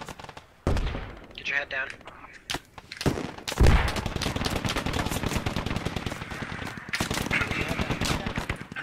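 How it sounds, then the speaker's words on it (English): Heavy machine gun fire from a vehicle in the Squad military shooter rings out in sustained, loud automatic bursts, broken by a few sharp single shots, while a voice calls out over the din. "There's some kind of vehicle there with the heavy machine gun."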